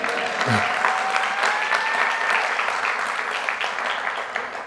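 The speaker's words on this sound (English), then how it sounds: "Go ahead, you can clap." Sustained applause from a lecture audience at a library event in Washington, DC, a steady dense clatter of clapping hands lasting several seconds with a brief low voice near the start.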